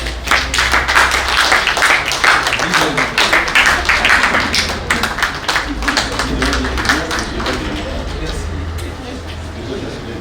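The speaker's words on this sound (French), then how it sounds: "Sur vos applaudissements, s'il vous plaît" Guests clap steadily throughout a civil wedding ceremony, a dense, sustained patter of many hands close by that thins slightly toward the end, with faint background murmur.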